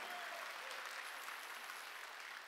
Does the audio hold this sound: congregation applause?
yes